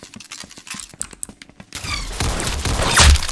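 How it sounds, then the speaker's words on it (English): Gunfire in a shooter video game, a burst of sharp separate shots followed by a louder, denser roar of firing and impacts that swells toward the end. "You blew his brains out. Nice! Nice headshot."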